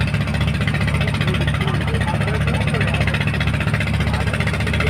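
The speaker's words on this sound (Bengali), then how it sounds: "দেখেন, বালু আনলোড হচ্ছে, বরগেট থেকে আনলোড হচ্ছে।" Engine of machinery unloading sand from a bulkhead boat at a trawler ghat, a steady mid-pitched drone with constant vibration running loud and unbroken throughout.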